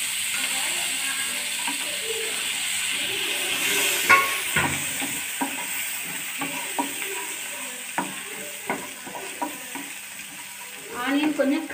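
Chopped onions frying in a pan for paneer butter masala, a steady sizzle and hiss with repeated scraping clicks of a spoon stirring against the pan, louder bursts of stirring near the end.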